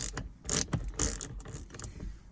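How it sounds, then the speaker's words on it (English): A tight Torx screw on a Dodge Grand Caravan arm rest being loosened outdoors in a driveway gives a few short metallic ratcheting clicks and grinding twists in uneven bursts, close and alone. "Get my little torques and loosen it. It's fairly tight."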